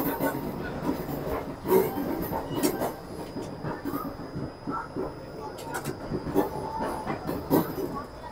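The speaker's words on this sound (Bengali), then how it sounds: "কানপুর স্টেশন থেকে আমাদের ট্রেন যথারীতি ছেড়ে বেরিয়ে যাচ্ছে" The 12311 Netaji Express pulls out of Kanpur station, heard from on board. It gives a steady low rumble with clicks and clanks from the carriages, and a voice talks over it.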